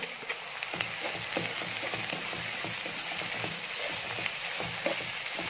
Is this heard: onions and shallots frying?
yes